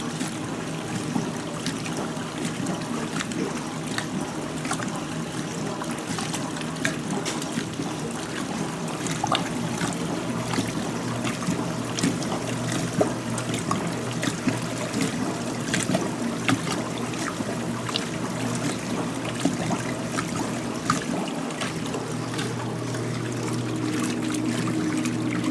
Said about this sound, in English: This one's going to drain first, but it also has a little bit of a longer pause between drain and spin.